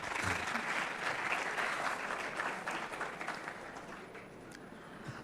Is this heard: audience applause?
yes